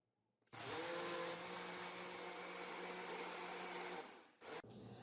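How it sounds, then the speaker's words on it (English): A blender blending greens runs at high speed with a steady loud whir for about four seconds, then briefly stops and restarts. "I will start blending, and then I can add the rest of the greens later to the blender"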